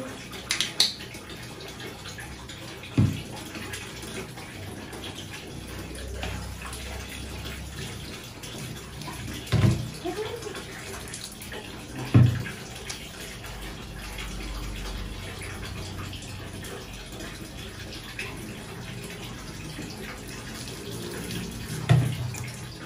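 Water runs steadily while a pet dog is bathed with pet shampoo, a constant wash of flow broken every few seconds by soft thumps and splashes nearby.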